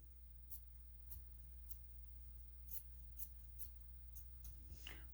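Scissors cutting fabric along a pressed crease for a 20-inch doll dress bodice, a series of faint, sharp snips spaced about half a second apart over a low steady hum, with no talking.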